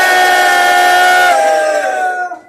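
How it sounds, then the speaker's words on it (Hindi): A large rally crowd roars and cheers together in a loud, sustained shout that swells, holds, and then fades away. "जोरदार ताली, जोरदार ताली।"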